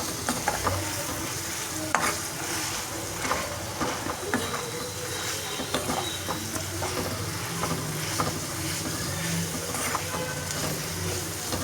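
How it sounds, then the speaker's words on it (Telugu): A salt and chili garlic paste is stirred into onions frying in a pan, giving a constant moderate sizzle broken by frequent spoon scrapes and taps. "ఈ వెల్లుల్లి ఈ అనేది మన ఉల్లిగడ్డలకు మొత్తం కలిసిపోయేలాగా కలిపేసుకుందాం"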